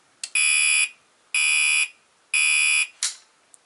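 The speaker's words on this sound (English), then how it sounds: "a real alarm" A fire alarm panel horn blares in three loud, even electronic blasts with short gaps between them, followed by a brief click, heard alone with no talking.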